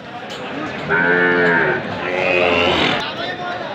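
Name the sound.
Sahiwal bull calves mooing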